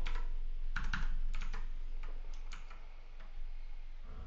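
Typing on a laptop keyboard produces irregular, close-up key clicks in short bursts with small pauses between them, heard alone with no talking.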